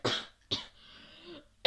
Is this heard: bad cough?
yes